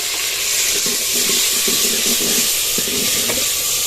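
Green chilies and tomatoes stirred into browned onions frying in a pan, a steady close sizzle under a run of rhythmic spatula scrapes, no voices.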